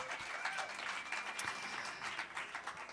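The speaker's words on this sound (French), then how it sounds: "On peut applaudir Mouloudji encore." Audience at a national slam poetry final in a bar applauds, a steady bright patter of clapping with a few whoops, heard quietly as if from a distance.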